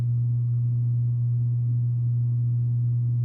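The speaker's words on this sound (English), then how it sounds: "I know y'all can hear my AC going on right now." An air conditioner runs in a room with a steady, low, continuous hum and a faint airy background, unchanging throughout with no talk.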